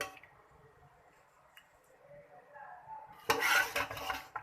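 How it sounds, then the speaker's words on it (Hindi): A spoon stirs bhuna gosht, a thick mutton curry, in a pot after the flame is turned off: soft, faint scraping builds to a louder metallic scrape and clatter near the end. "फ्लेम को ऑफ करते हैं और इसको हम मिक्स करने के बाद करते हैं डिश आउट"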